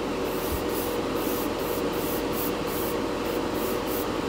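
An airbrush sprays thinned lacquer clear coat onto a test spoon, giving a steady, close, even hiss throughout with a faint regular pulsing and no talk.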